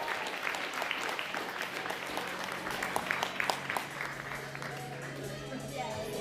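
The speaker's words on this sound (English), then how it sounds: "One more round of applause for our Open B female podium." Audience applauds the female Open B podium at a Queensland bouldering competition finals, a steady wash of clapping from a crowd, moderately distant, with faint voices mixed in.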